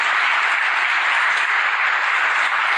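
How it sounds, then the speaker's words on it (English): An audience applauds after a conference talk on network security, a dense, steady burst of many hands clapping that fills the room at even loudness throughout. "I honestly don't know why you're clapping."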